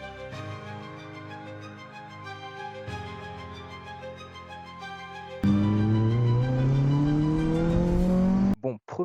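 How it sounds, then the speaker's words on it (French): A 2009 Honda Civic Type R with its VTEC engine, first idling and revving at a steady low pitch, then surging loud as the revs climb sharply before cutting off abruptly near the end. "Aujourd'hui, on teste une Honda Civic Type R de 2009."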